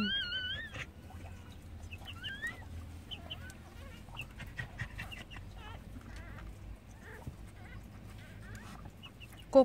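Chickens clucking on a rural Korean homestead, with short bird calls scattered through steady low background noise; no speech is heard.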